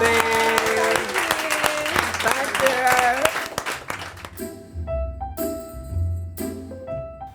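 A small audience claps for a guest on a food podcast. The applause is loud at first over music and voices, then fades out as the music carries on alone.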